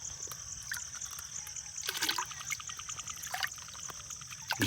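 Water is poured into a drum while preparing a waste decomposer mix, producing a continuous close trickle and splashing with a few louder gushes, alongside faint bird-like chirps in the background and no clear speech.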